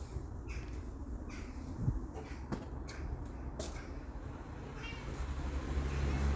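A cat meows a few times at moderate distance in a calm seaside setting, mixed with faint clatter, household knocks and light background noise.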